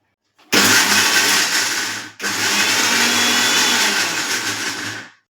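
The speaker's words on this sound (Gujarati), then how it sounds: "આપણે મિક્સરમાં થોડું પીસી લેશું" A kitchen mixer grinder grinds farali chutney in two loud runs, a short burst and then a longer steady whir, with a brief stop between them and no talk.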